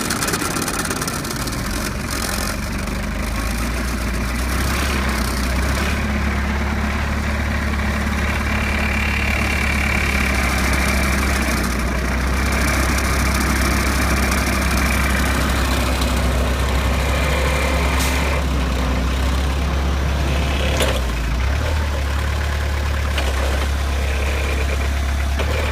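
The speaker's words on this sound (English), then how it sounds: "I'm going to lift up the fork." A forklift engine runs loud and steady throughout as the fork is raised, a constant low drone with rattling vibration and some brief mechanical clunks.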